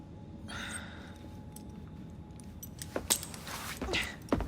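Keys jingle as they are handed over at Kenway's Mansion in Assassin's Creed Syndicate, with a few short metallic rattles near the end after a quiet stretch of breathing and ambience.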